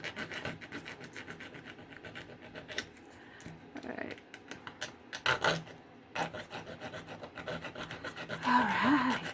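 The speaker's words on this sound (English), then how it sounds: "I don't want to be filing my pliers. I just want to file that." A hand file rasps against a small metal part held in pliers, in short uneven strokes with pauses between them, close and fairly quiet.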